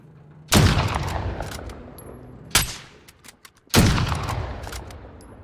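Gunfire in Call of Duty: Warzone, three loud close shots or short bursts, each ringing out and decaying over about a second, with a few faint clicks between them.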